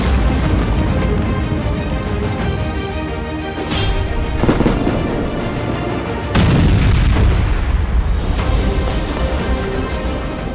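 Bunker buster bombs exploding in Gaza, heard as a dense, continuous roar of loud booms and rumbling blasts with several sharper impacts rising out of the din.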